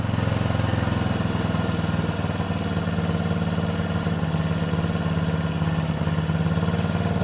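A 1974 Honda CB360 motorcycle engine idles steadily during carburetor synchronization, a loud, continuous close-up putter with a slightly uneven, bouncing rhythm and no talking.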